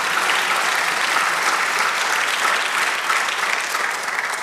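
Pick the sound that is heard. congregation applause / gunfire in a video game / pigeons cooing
congregation applause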